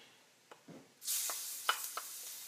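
Garlic hits a very hot pan for a shrimp scampi and erupts into a bright, steady sizzle, with a few taps and stirring clinks nearby, no talk.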